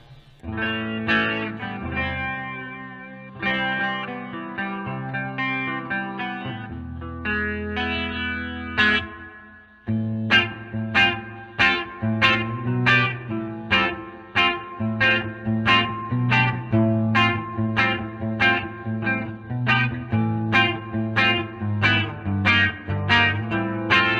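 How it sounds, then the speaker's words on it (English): A Univox Hi-Flier electric guitar plays chords and then rhythmic strummed stabs, drenched in a shimmering, wavering surf-style chorus effect, with no voices. "let's hit up some chorus so you guys can hear some of that nice surfiness"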